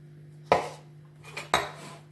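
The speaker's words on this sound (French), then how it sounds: "Moi, je vais brasser." A utensil knocks against a container while water is stirred into SoShape powder mix, two sharp, close clinks about a second apart over a faint steady hum.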